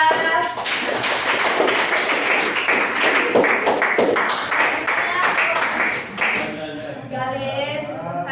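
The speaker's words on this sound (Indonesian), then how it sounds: "Tepuk tangan buat kelompok visual" Classroom applause for a sixth-grade student group, lively clapping from many children for about six seconds before it fades out, followed by quieter talk and room noise.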